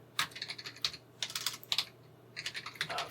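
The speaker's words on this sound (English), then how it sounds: "So I'm just going to type" Bursts of keyboard typing on a computer, quick clustered keystrokes in three runs with short pauses between, close and fairly quiet, no voices.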